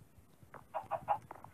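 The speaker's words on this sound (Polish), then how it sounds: "O, kurczak." A Minecraft chicken clucking quietly, a quick run of four or five soft short clucks in rhythm, faint and close, with nothing else going on.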